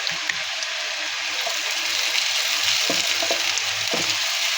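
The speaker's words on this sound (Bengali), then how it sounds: "আদা রসুনটা ভাজা হয়ে গিয়েছে," Ginger-garlic paste frying in oil with onion in a pan for Bengali egg curry, an unbroken loud sizzle with occasional faint stirring taps, close up and without voices.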